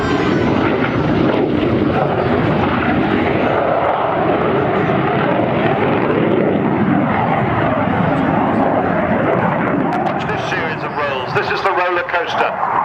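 A jet aircraft performs a flying display at the RAF Cosford Air Show in 2005, slowing with its air brake out; a loud, continuous engine roar fills the air, with a commentator talking over it throughout.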